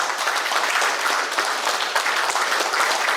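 Loud, sustained applause from a crowd honouring guests at a stage event, dense steady clapping filling the whole stretch with no break.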